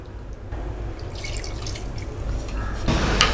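Water is poured into a pot of chicken biryani, a continuous close splashing and trickling that grows a little louder toward the end, with no talking.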